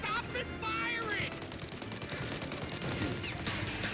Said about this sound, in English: Shoot the gun! Stop it firing!